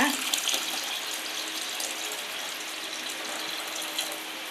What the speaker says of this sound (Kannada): ನೀರು ಹಾಕ್ತಾ ಇದ್ದೀನಿ ಈಗ ಸ್ವಲ್ಪ